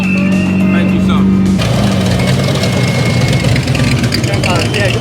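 An 8.2-litre supercharged V8 idling at a street protest convoy in Whitehall, a loud, deep steady rumble with a low hum that shifts partway through, heard under a person talking nearby.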